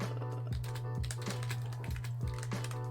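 Keys clacking on a computer keyboard as a short text is typed, quick irregular taps close up over a steady low hum, with a few heavier strokes standing out.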